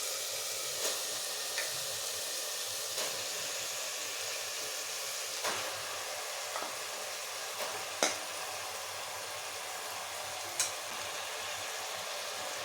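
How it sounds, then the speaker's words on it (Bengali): One kilo of mutton sizzles in fried spice paste for mutton kosha, an even broadband hiss with occasional faint clicks and utensil ticks, close and steady with no speech. "এখন মটনটা দিয়ে দেব।"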